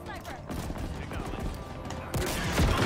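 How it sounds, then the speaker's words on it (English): Gunfire at a ship in the Halo Infinite campaign: rapid shots rattle steadily, then a louder, heavier burst hits near the end, with faint game voices beneath. "Let me see if I can shoot this ship down."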